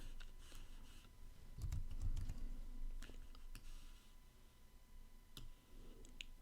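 Code is typed on a computer keyboard for an iOS Swift app, light scattered key clicks at a close, quiet level with irregular pauses, a low thump or shuffle mixed in midway, and no one speaking.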